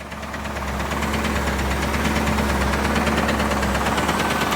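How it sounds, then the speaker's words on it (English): A Camaro IROC's engine runs with a rough, surging rumble and a rapid knocking clatter throughout, loud and close, no voices. "Engine's definitely surging, so it's not running right."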